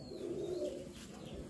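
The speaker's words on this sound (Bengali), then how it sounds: "এই হচ্ছে পায়রা।" Pigeons, including Madrasi, Rampuri and Malwai breeds, coo softly at a pigeon sale near Kolyapur railway station, a brief low burbling call that is close but faint over quiet background noise.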